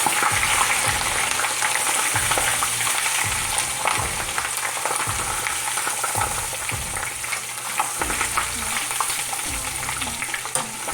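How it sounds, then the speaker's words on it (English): Pork griot, Haitian-style chunks of pork, frying in hot oil in a pot, with a steady close crackling sizzle and repeated low scraping stir strokes at a loose, regular rhythm, no voices. "You want to fry it until it gets a little brown"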